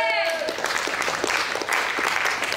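Church congregation applauding and acclaiming God, with a burst of clapping and cheering voices swelling together after a preacher's raised voice, close and lively.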